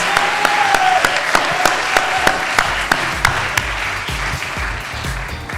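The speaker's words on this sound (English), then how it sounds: "Can we please give our highly commended Sophie a massive round of applause?" Applause for a highly commended finalist at a grand final awards event, with sharp, spaced claps ringing out over a steady room murmur.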